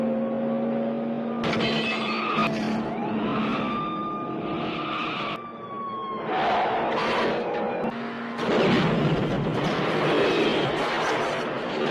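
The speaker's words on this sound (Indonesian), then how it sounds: "ketika Rambo harus beradu kecepatan dengan sebuah mobil polisi" A police car chase scene in a Rambo film, with loud tire skids and squeals, revving car engines and a crash-like burst, all dense and close with a film score underneath.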